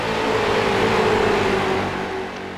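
Street stock race cars on a track make a loud, continuous engine roar with a steady pitch that fades slightly toward the end.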